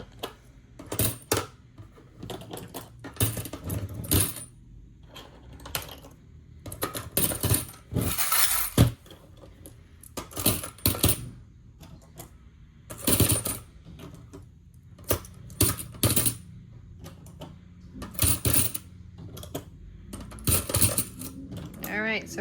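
Loose coins clatter into a savings box in repeated metallic bursts, some long rattling pours and some single clinks, close and bright, with a person talking quietly between them.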